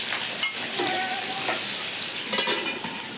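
Magur catfish pieces fry together in hot mustard oil in a kadai, a steady dense sizzle with occasional louder pops and spatters.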